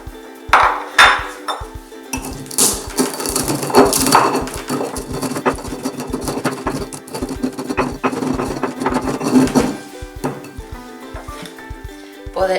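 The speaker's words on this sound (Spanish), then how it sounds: "voy a ayudarme con el molcajete, que queda mejor molido" Spices ground by hand in a stone molcajete, with a steady run of close, knocking and crunching pestle strikes that pause briefly near the end before resuming.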